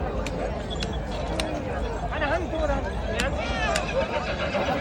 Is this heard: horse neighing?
yes